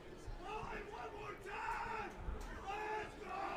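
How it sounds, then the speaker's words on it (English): Baseball crowd cheering at a Saturday night playoff game in the second inning, a sustained rising roar of many voices with whoops and yells, moderately distant, under a commentator's voice. "Crowd getting into it here in the second inning on a Saturday night."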